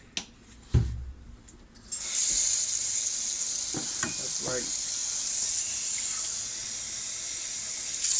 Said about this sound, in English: let's get some water here